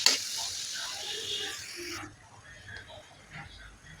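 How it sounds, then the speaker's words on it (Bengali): Minced meat frying with salt in a pan, a bright sizzle loud at first, then dropping sharply to a quieter sizzle with faint stirring sounds. "তা আমি মাংস কুচিগুলো ভাজি করে নিচ্ছি, একটু লবণ দিয়ে ভাজি করে নিচ্ছি"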